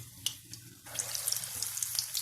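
Paal bun dough frying in hot oil, where a brief quiet gives way to a loud, steady sizzling hiss with scattered crackles that lasts to the end.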